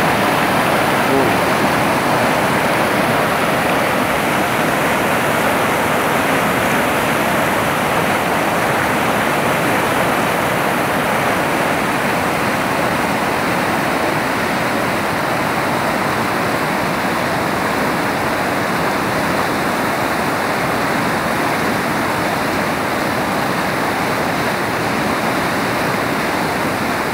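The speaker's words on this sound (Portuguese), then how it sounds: "A queda da água está mais forte" Water pouring over the spillway of the Jati-Ce dam in a strong, continuous roaring rush, loud and unbroken for the whole stretch with no talk over it.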